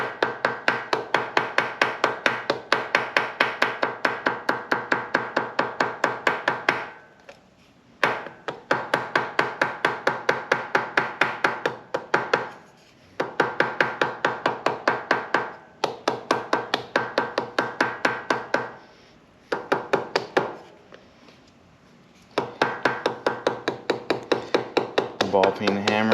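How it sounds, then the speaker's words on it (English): A ball peen hammer tapping rapidly and evenly around gasket material to cut it while servicing a Harley Softail, in several runs of quick close taps separated by short pauses. "a ball peen hammer."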